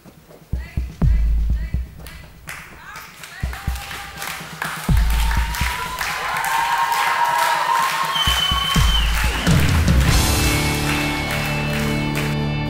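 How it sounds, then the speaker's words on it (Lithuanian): An audience at a Lithuanian singing contest claps in scattered bursts that swell into sustained applause, while music and a voice sound over it. "Plojimai dar kartelį"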